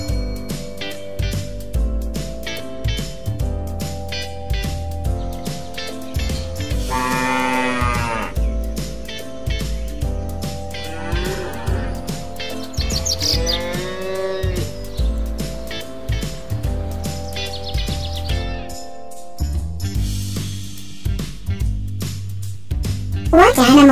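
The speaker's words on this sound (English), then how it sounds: "This is a cow." Cattle mooing in long, drawn-out calls that rise and fall, heard alongside a steady backing music track throughout.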